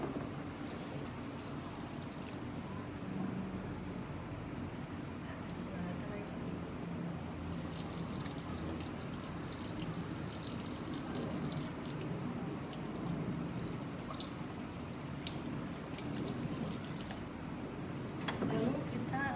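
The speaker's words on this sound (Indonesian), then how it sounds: "Setelah itu kita cuci tangan 6 langkah." Running tap water splashes steadily as hands are washed in the six-step method at a sink before childbirth care, a continuous moderate flow with faint splashes and background voices.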